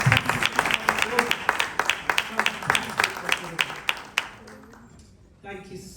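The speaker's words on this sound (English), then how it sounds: "Please give her a round of applause" An audience applauds at a memorial tribute for a Wounds of Africa actress, a dense burst of many hands clapping with sharp individual claps over a crowd bed, fading out toward the end.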